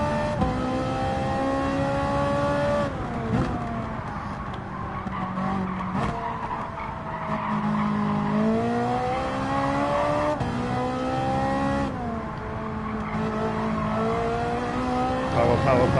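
A Ferrari GT3 race car in Gran Turismo 7 racing at Spa: a loud, continuous engine note rising and falling through gear shifts, with tire squeal and skidding through the corners.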